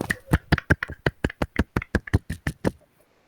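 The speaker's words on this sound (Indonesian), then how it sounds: "Tepuk tangan buat kita semua" A class claps together after singing, producing about sixteen sharp, evenly spaced claps in a steady rhythm before stopping abruptly. No one speaks over them.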